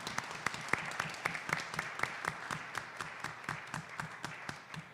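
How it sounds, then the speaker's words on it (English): An audience at a school board of education meeting claps steadily in a sustained round of applause, heard from a moderate distance with a few sharper individual claps standing out. "So let's give our board a round of applause."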